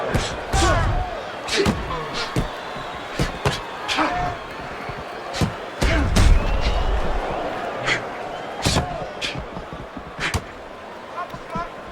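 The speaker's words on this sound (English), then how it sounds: "Devastating blow by Johnson." Sharp punches land in a boxing match between Kirk Johnson and Alex Leapai, several crisp smacking impacts spread irregularly, heard under steady commentary and crowd noise.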